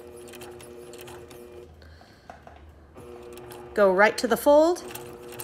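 A sewing machine stitches fabric in short runs, a steady close mechanical whir that pauses and resumes, with someone speaking over the final burst.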